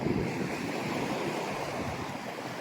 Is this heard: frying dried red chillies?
no